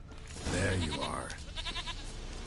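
Goat bleating in Witcher 3, a wavering nasal bleat rising clearly over quiet game ambience, followed by softer rustling and faint background sounds.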